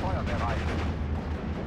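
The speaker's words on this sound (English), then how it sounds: "Hit some of these units in the open with the artillery" Artillery fire in the World War II strategy game Steel Division: Normandy 44, dense rumbling blasts and crackling gunfire packed together continuously, with a voice talking over it.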